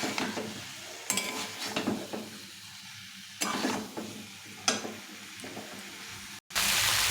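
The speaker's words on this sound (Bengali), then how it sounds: "এখন আমি এই ফুলকপি আলুগুলো দিয়ে কষিয়ে নেব" Cauliflower and potatoes sautéed in spices in a pan for a Bengali fish curry: bursts of sizzling and rough stirring scrapes separated by quieter pauses, close and without talk, ending in a louder, steady hiss.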